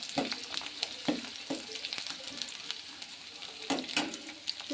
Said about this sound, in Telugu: ఆనియన్ నేను పప్పులో వేసుకోలేదు కాబట్టి ఇప్పుడు ఆనియన్ దీంట్లో వేసేసుకుంటున్నా. బాగా వేయించుకుందాం.